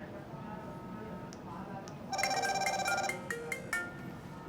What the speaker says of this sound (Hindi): ये व्हाट्सएप कॉल आ रही है